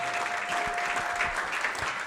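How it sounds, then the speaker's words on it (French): A church congregation breaks into a burst of enthusiastic clapping as an offering of praise, a dense, close wash of many hands over a brief held tone. "Est-ce qu'on peut donner une offrande d'acclamation?"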